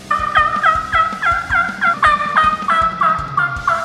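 A Woodhaven mouth call imitates a wild turkey with a steady run of about a dozen sharp, high yelps at a quick even rhythm, loud and close with no talk.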